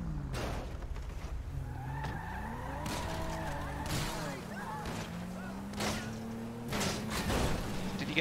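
In GTA V, a car being driven in a manhunt has a tyre hit. Tyres skid and squeal amid sharp bang-like hits and engine noise, with faint background voices.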